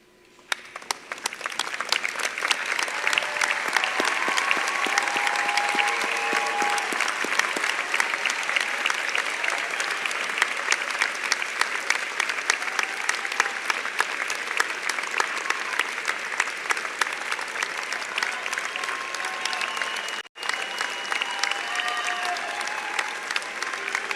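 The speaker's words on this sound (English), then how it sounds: "give those who helped you a big round of applause" A standing audience at a university Faculty of Arts and Science graduation ceremony claps long and steadily, a dense, sustained roar of many hands that starts abruptly, holds for over twenty seconds, and breaks only for a brief gap near the end.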